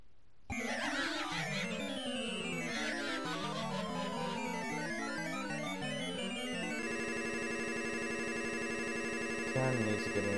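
A phone call ringing out before going to voicemail, with a busy, melodic ringtone repeating steadily, then shifting to a flatter, sustained electronic tone near the end.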